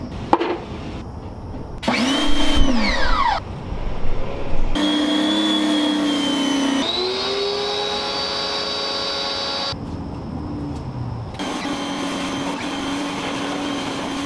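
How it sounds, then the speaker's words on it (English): A Tesla car gets washed and rinsed with water outdoors, with bursts of whining machine noise that start, stop and shift pitch over several separate stretches, fairly close and with no talking. "Washing the car is done."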